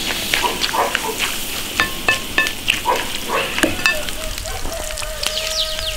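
Fried noodles and meat stirred in an iron wok: steady sizzling and frying with repeated scraping and clinking strokes of the utensil against the pan, close and continuous.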